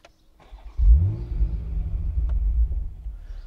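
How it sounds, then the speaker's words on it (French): A BMW Z4 M40i engine starts up with a sharp cranking catch and a loud flare of revs, then settles into a deep, steady idle rumble close by, with no other sounds around it. "pied sur le frein et on appuie sur le bouton start"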